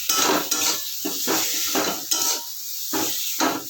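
Taro leaves are stirred in a hot pan with no spices, the spatula scraping in about seven rhythmic strokes over a steady sizzling hiss, close and clear.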